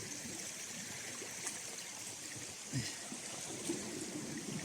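Steady rushing water of a waterfall, continuous and fairly close, with a few faint splashes and knocks in the background.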